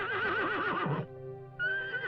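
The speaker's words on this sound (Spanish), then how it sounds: "Estos empezaron a relinchar y agitarse como antes." A horse gives a loud, close whinny, a wavering neigh that breaks off abruptly, then a second neigh starts after a short pause, sounding agitated.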